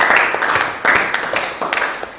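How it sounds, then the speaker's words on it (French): Audience applause at a Congolese church youth gathering in N'Djili, a dense crackle of many clapping hands in bursts that swell and fade, fairly loud, with faint voices underneath. "On applaudit très fort pour notre soeur."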